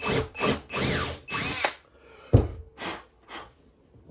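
A power drill whirs in several short bursts, starting and stopping, with a sharp knock midway and quieter bursts toward the end.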